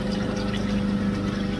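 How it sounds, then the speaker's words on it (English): Water pours steadily into a homemade bait tank filter for fishing or pond use, a continuous close gurgling rush with a low pump-like hum and no voices. "filter is filling up"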